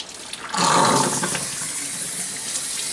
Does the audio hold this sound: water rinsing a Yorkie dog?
yes